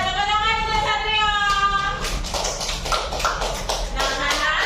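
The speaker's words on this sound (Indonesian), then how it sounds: "Ya, tepuk tangan untuk Satria." A classroom of students claps for a classmate, a burst of close, dense hand claps starting partway through and continuing after a teacher's voice.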